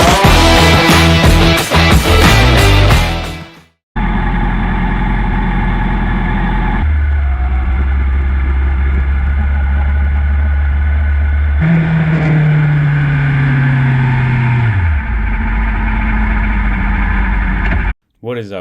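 Yamaha R6 motorcycle engine at a race track, a loud steady roar that holds for long stretches, with a drop and shifts in pitch partway through and a falling tone near the end. It is heard close up with no talk.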